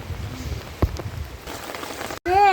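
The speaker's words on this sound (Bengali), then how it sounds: "এই যে বৃষ্টি হইতেছে" Rain falls in a steady patter on a surface, with a brief sharp tap midway and a short louder tonal sound at the very end.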